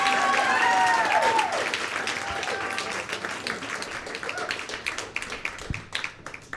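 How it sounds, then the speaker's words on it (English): An audience at a comedy club claps and applauds, a dense burst of hands that gradually thins into scattered claps, with a host's voice briefly heard at the start. "go ahead, start clapping"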